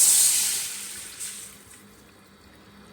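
A steady splashing pour of tamarind water into a pan fades gradually over a few seconds, leaving a faint hiss with a small clink near the end.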